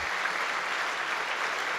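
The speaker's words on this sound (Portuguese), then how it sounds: "Dê um aplauso bem forte ao Senhor Jesus." A church congregation at a Sunday service applauds in a steady, dense burst of clapping that carries on evenly throughout.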